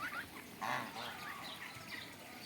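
Ducks near a pond, a few short quacks and honking calls over a faint outdoor background.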